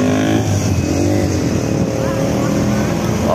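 A Goodwill premium bus passes by on a city road, its loud, close engine drone holding steady throughout.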